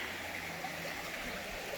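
Creek water flows steadily below a mountain camp in the Ouachita Mountains, a continuous broadband rush with no breaks, close and moderately loud, heard alone without voices.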